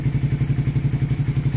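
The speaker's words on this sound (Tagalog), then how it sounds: "Papasibak natin tong Raider 150 na to." A stock Honda Raider 150 motorcycle engine runs close by with a steady, fast, rhythmic thumping pulse and no talk.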